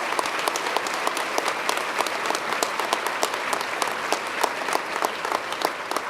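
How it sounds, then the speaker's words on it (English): Steady round of audience applause at a governor's budget presentation, dense even clapping from a large room holding at moderate level throughout with no speech over it. "Let's give them a round of applause"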